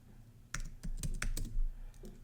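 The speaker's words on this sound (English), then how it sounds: "let's type the same command" Someone types a command on a computer keyboard while logged into a network switch: a quick, uneven run of crisp key clicks, close and fairly quiet, with no talking.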